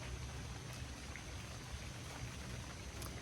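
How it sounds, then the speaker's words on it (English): Steady rain falling outdoors during a knife sharpening session, a continuous soft hiss of drops with a few brief louder patters, no talk. "It is starting to rain,"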